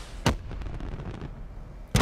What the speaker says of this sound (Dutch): Als het goed is kun je hier met L1 ook mee schieten.